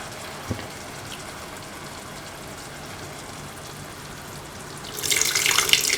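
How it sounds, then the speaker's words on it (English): Tamarind water is poured into a cooking pot for a bitter gourd stew, a faint quiet background before a brief loud gush of liquid in the last second. "Now pour in 300 ml of water into which"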